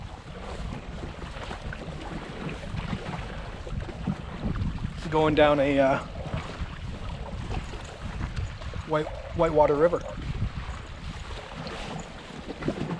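Steady wind buffets the microphone beside a whitewater river during a kayak camping trip with a dog, a broad low rumble running throughout while someone speaks briefly twice.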